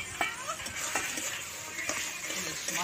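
Spices being stirred and fried in oil in a pan in a home kitchen, a steady close hiss with a few sharp scraping strokes of a spoon against the pan.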